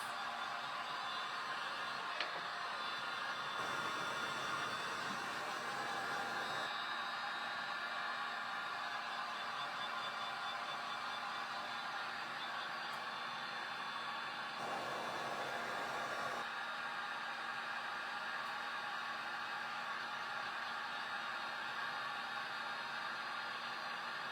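A hair dryer runs continuously with a steady, loud whooshing roar, its pitch shifting slightly as the airflow changes, with no talking over it.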